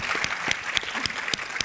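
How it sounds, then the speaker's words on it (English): A round of audience applause at a past presidents panel, dense clapping from a seated crowd, fairly close and steady for a short burst with no voices over it. "round of applause"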